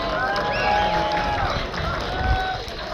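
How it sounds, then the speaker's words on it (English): A crowd at a Roman and Celt reenactment display breaks into cheering and clapping, a dense mid-level clamour lasting throughout with some voices audible among the applause. "Why don't you give these boys a cheer for doing a fantastic test duty?"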